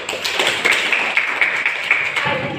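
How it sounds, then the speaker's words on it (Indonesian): Scattered clapping from a classroom of students, a few dozen hands patting irregularly for a couple of seconds, moderately close and fairly loud with no one speaking. "tepuk tangan"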